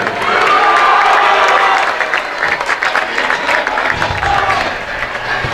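A near-capacity crowd in a high school gym before a varsity basketball game, loud cheering and applause filling the hall, sustained and dense, easing a little toward the end as murmur and chatter carry on beneath.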